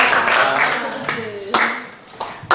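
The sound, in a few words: three rhythmic hand claps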